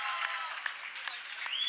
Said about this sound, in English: this is a moment when the claps should be coming in.